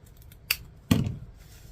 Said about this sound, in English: I'm going to come to the other end and cut the same angle.